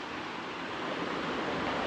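Sea waves wash ashore at a beach resort in Kannur, Kerala, a steady broad roar of surf with some wind noise and no talking.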